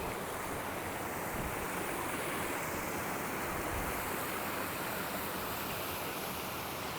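Hell Beck, a woodland stream flowing toward the River Gelt, gives a continuous broad rushing wash of water, steady and fairly close with no voices over it.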